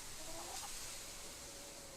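A chicken clucks in the video game Fable 3, faint and brief against a steady background hiss, with no speech.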